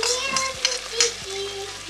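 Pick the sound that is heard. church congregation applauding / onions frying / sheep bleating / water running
onions frying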